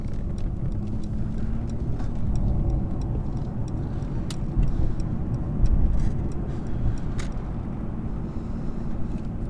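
A 2019 Mercedes S350L accelerating on the road. A steady, low engine and road rumble fills the cabin, with a faint ticking and a brief swell partway through.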